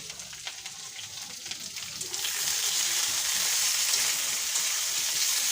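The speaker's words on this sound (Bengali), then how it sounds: "আর হচ্ছে ঢেঁড়স ভাজা" Okra frying in a pan on a home stove, a quiet start that swells after two seconds into a steady, bright crackling sizzle held close and constant to the end, with no talk.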